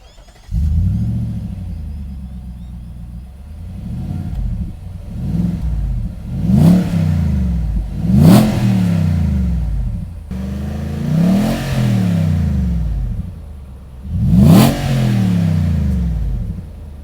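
A Nissan Y62 Patrol fitted with a Harrop aftermarket exhaust idles close by, then is revved in several sharp blips, each rising to a deep roar and falling back to a rumbling idle.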